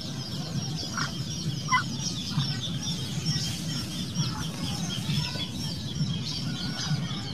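Mother hen clucking softly and repeatedly to newly hatched chicks, with a few higher chick peeps scattered through, close by and otherwise quiet.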